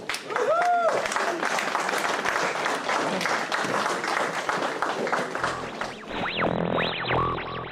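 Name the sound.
applause from an audience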